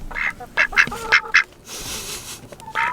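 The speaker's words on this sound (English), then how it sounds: "And then we got the guard duck." A guard duck in a backyard flock with chickens quacks loudly and close by, giving several short quacks in quick succession followed by a brief pause and another call.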